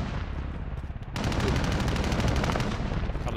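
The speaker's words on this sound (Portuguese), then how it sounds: "o helicóptero dispara tiros automaticamente para o pessoal que anda lá em cima." Rapid automatic gunfire from a helicopter in Call of Duty erupts after a brief quieter moment, a loud, sustained stream of fast shots.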